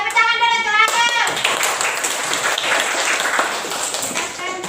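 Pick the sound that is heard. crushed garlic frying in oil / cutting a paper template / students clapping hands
students clapping hands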